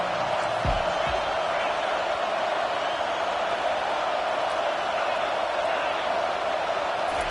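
A stadium crowd in a football video game roars on third down as a loud, steady wash of noise, with a couple of thumps near the start and a voice talking over it.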